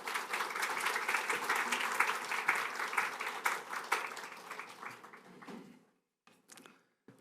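A church congregation at a Korean Sunday service applauds to welcome the pastor: dense, steady clapping from a crowd in a hall that thins out and dies away to a few scattered claps near the end.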